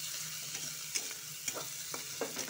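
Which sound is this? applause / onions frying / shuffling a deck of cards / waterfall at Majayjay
onions frying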